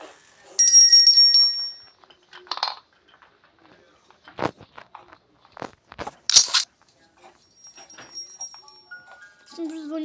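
Bright metallic bell rings in the horror video game Granny, a burst of rapid dings followed by scattered clangs, with a player talking over it.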